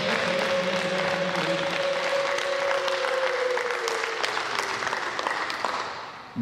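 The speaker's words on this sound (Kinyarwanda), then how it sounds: "Amashyi menshi." Applause at a church wedding ceremony, a sustained burst of many hands clapping, with a held organ-like tone underneath that fades out toward the end.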